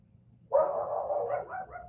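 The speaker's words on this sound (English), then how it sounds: "there goes the dogs barking upstairs" A dog barks from upstairs in a house, one sustained close bark-like burst rising suddenly after quiet and holding for over a second, with no talking.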